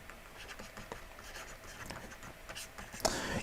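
A hand writes out an equation in a maths lesson, with soft, close scratching strokes in short irregular bursts and a louder scrape at the end.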